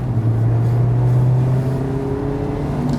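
A 2019 Mazda MX-5 30th Anniversary sports car engine, 180 horsepower, hums steadily at a low, even pitch, with a faint rising whine layered on top, close and continuous, no voices.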